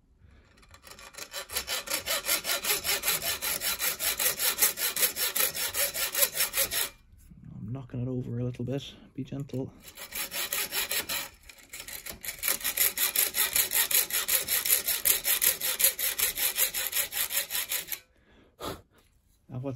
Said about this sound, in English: put two little dashes across the top with the hacksaw